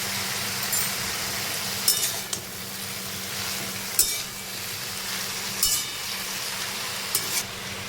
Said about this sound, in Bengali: একটু নেড়ে চেড়ে আগে থেকে ভাপিয়ে রাখা ফুলকপির ডাঁটাগুলোকেও দিয়ে দিচ্ছি